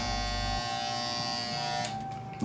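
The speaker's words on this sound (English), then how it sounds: "take the trimmer and very, very carefully cut the excess" An electric hair trimmer buzzes steadily while cutting excess hair at the back of the head, a close, continuous whine that cuts off near the end.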